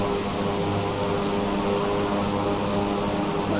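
A steady propeller-plane engine drone from Microsoft Flight Simulator during a flight over Japan, loud and constant without a break, with no voices over it.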